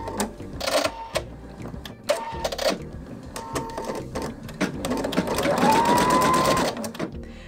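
An embroidery machine running at medium speed while stitching a quilt label, a rapid steady mechanical tapping with brief pauses and a rising whir near the end, close and clear.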